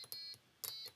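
A small piezo buzzer driven by an Arduino board from a SparkFun Inventor's Kit plays short electronic notes, several quick high-pitched beeps in an uneven pattern, clear and close with no talking.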